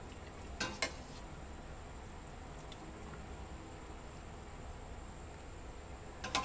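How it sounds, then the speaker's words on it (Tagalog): Pink salmon pieces frying in a pan, a steady low sizzle running throughout with a couple of brief utensil clinks near the start and end, no voices. "Piniprito po muna namin yung isda bago namin igisa"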